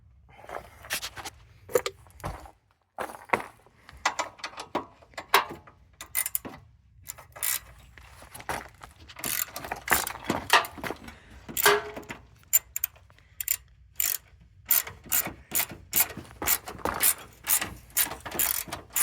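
A ratchet clicks in repeated bursts while headlight bracket bolts come out of a Honda Accord, the rapid pawl ticking close and loud with short pauses between strokes.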